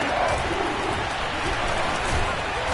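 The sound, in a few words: stadium crowd at a football game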